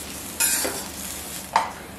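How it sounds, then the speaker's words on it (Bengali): Jeera rice is stirred in a hot pan after a sprinkle of water, giving two short hissing scrapes with a brief sizzle, close and fairly loud, with no talking. "জাস্ট অল্প জল ছিটিয়ে দিতে হবে, তারপর এটাকে ভালো করে নাড়াচাড়া করে দিতে হবে।"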